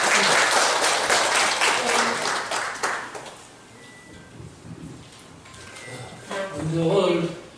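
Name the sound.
audience applause for the outgoing association president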